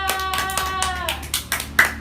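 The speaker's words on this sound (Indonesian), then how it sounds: "Ciko tepuk tangan buat Kakak Ciko." Children in a primary school classroom clap for a classmate during a science lesson, giving a handful of scattered, uneven hand claps over a steady tonal background, close and moderately loud.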